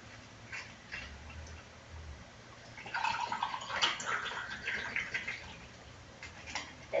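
Ice water poured into a 300 ml cup, a close splashing trickle that swells from midway and keeps going with faint clinks and drips, with no voices.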